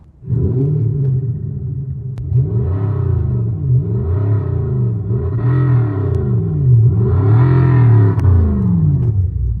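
A low synthetic hum from underbody speakers of an electric Rolls-Royce that rises and falls in pitch in repeated sweeps, loud and close, mimicking an engine revving.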